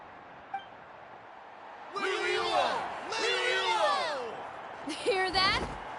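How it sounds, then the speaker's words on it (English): Game crowd in Genshin Impact cheering and whooping in bursts, swelling twice for about a second each and then a third shorter surge, set over a faint background bed. "Hear that? The exhilarating cheers of the crowd."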